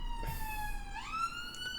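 An emergency siren passing, its wailing tone sweeping up and down at moderate loudness over steady low traffic rumble, with no talk over it.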